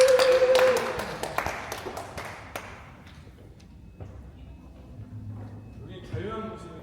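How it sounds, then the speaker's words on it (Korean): A church congregation claps at a worship service, a scattered burst of applause that thins out over a few seconds before a voice speaks. "주님께 감사의 박수를 드립니다"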